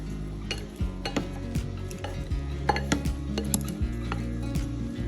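Seasoned potatoes being mixed in a bowl with salt and pepper, producing a steady series of close clinks and scrapes of a utensil against the dish, with soft rustling in between.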